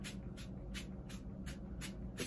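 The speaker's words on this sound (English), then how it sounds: "I spray it in my hand" Hair product is sprayed into a hand in about seven quick, evenly spaced hissing bursts, close and fairly quiet, alone without talk.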